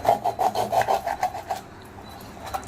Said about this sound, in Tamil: கத்திரிக்கோலை வச்சு கட் பண்ணி அந்த மீனை கொலை பண்ணி எடுத்துருவேன்